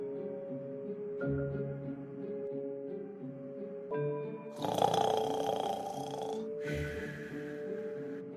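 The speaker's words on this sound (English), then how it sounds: "Snoring like that in class?" A person snoring loudly in a classroom, with several long, rough snorting breaths of rising and falling intensity, close and with no talking.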